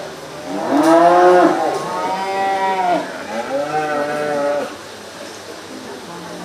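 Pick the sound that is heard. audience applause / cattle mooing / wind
cattle mooing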